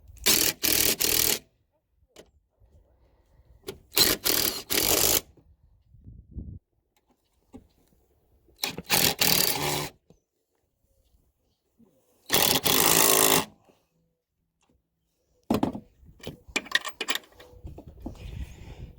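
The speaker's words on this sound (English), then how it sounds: "after this is tightened with the electric impact, I'm just going to torque those down afterwards" An electric impact wrench tightens 13mm nuts while fitting a 3 inch lift on a Subaru Outback: several loud hammering bursts of one to two seconds each, separated by quiet gaps, close by.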